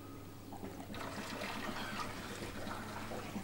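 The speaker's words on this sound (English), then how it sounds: "I can hear it bubbling through the chiller" Water gushes and gurgles steadily through the piping of a newly replaced aquarium chiller on a reef tank, a continuous trickling rush over a low mechanical hum, with no voices.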